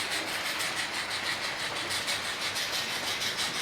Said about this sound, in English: I've got the Duchess of Atholl pulling these coaches round